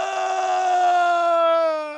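A voice imitates a father's sad, drawn-out wailing scream from the horror film A Quiet Place, one loud sustained cry that bends slightly in pitch and fades at the end.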